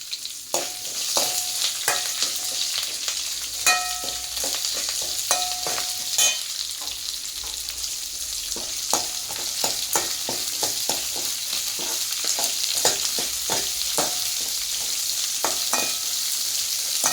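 Onions sizzle in hot oil in a pan for radish chutney, a steady frying hiss broken by repeated scraping and clinking of a spoon stirring against the pan, with no voices.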